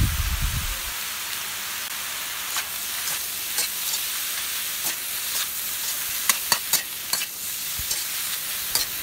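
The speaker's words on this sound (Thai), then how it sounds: "ขั้นตอนตรงนี้ค่ะเราจะผัดให้เห็ดสุกก่อนนะคะ" Eringi mushrooms stir-fry with minced pork in a pan, giving a steady hiss of sizzling oil broken by sharp scraping clicks of a spatula, close and clear with no talking.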